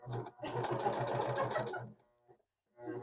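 A sewing machine stitches fabric for a t-shirt dress in a fast, rapid mechanical whir that runs in two bursts separated by a brief pause.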